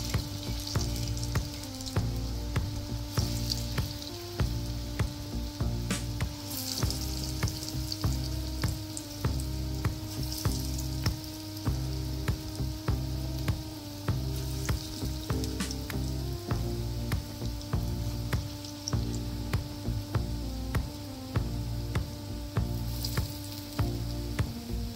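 Small moong dal bhaji fry in oil over a medium flame, a dense continuous bubbling sizzle with constant fine crackles, close and steady with a low hum beneath.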